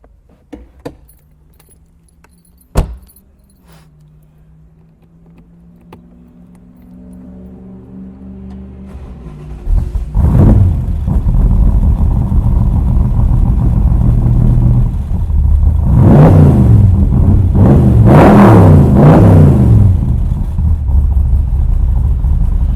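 Keys jingle and clink close by, then a 1965 Backdraft replica Shelby's engine cranks and catches into a deep, steady idle. It rises through a few loud throttle blips and revs, with no talk.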